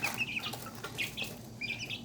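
Serama and pheasant-chicken chicks, about two months old, clucking and peeping softly in a few quick high calls over a low, steady background hum.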